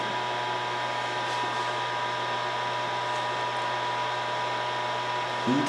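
A blower-style heat tool runs steadily and close up, aimed at a bowed part to flatten it, giving a continuous even whoosh and hum for several seconds, with a small knock just before it ends.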